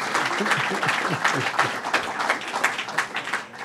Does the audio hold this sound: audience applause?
yes